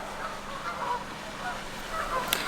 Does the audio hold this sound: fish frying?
no